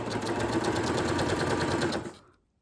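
A sewing machine running a long stitch along a fabric Christmas belly band whirs with a fast, even mechanical chatter for about two seconds, close and loud, then stops.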